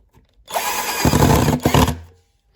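A power drill drives a screw into a wooden model railway baseboard, one loud close whirring burst lasting about a second and a half that bogs down and rises again before stopping.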